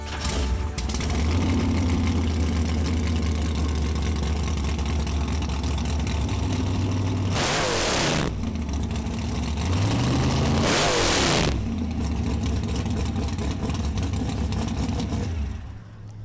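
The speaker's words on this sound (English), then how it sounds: "Let's start it up, Eric." An altered roadster's engine fires and settles into a loud, deep idle, then revs hard in two sharp bursts before dropping back to a rumbling idle, close by with no talk.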